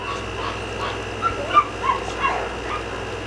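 A small dog gives a run of soft, high whimpers and short yips, a little louder near the middle, over a steady low background hum with no talking.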